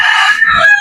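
A rooster crows once at close range, loud and sustained, cut off partway through the call.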